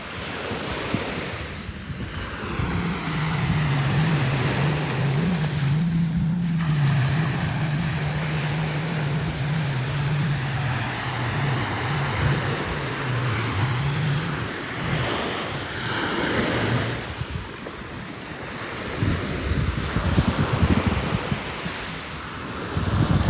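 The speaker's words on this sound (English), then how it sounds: "Atlantic Ocean." Atlantic Ocean surf rolling onto the shore at Blowing Rocks, a loud, steady roar of breaking waves with heavy wind buffeting the microphone, and a low motor hum drifting through partway.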